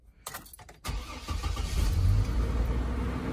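A GMC Envoy engine cranks with a few short starter bursts, then catches and settles into a loud, steady idle close by, with no talk over it.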